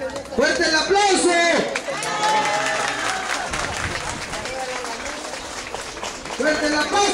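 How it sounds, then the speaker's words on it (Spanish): Applause from a crowd gathered at a chapel groundbreaking event, steady clapping and murmuring beneath a loud amplified announcer who talks through most of it. "¡Fuerte el aplauso!"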